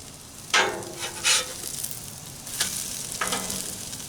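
Frosted Flakes French toast sizzles on a Blackstone griddle in a low, even hiss, with a few sharper bursts of spitting and scraping as spatulas move the slices, close by and with no voices.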